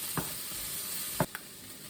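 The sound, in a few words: bell peppers and red onion frying in a pan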